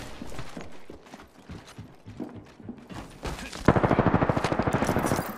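Gunfire in the Apex Legends shooter, scattered shots and mechanical clatter giving way to a loud, rapid run of evenly spaced automatic shots near the end.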